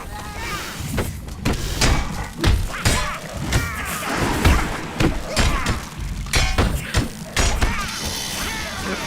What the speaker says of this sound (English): There's that explosion attack I was talking about.